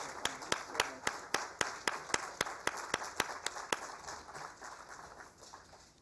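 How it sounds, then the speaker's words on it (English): An audience applauds at an award ceremony: sharp, evenly spaced claps form a steady rhythm that gradually softens and fades toward the end. "please, big round of applause"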